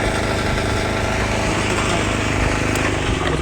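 A small ATV engine holds a loud, steady high-pitched drone at full throttle with no breaks, close and continuous, with wind or road noise mixed in.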